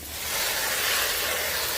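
A hose or sprayer mists water onto porang seedling growing media, a broad, steady hiss that swells slightly and then holds evenly, close and moderately loud, with no talk.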